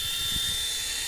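A toy RC helicopter, a fast model, runs with a steady high-pitched motor whine and rotor buzz, close by and continuous, with no voices.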